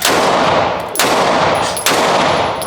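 Dense, continuous rapid gunfire at a shooting range fills the clip, loud and close, with sharp new bursts striking about every second over a sustained roar.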